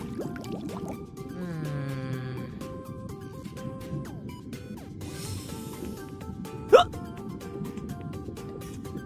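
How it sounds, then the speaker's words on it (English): Croaking burps ring out on a stage, rising and falling over a murmur of background noise, with one sharp louder burst near the end. "That there is to be no speaking on stage, only burping."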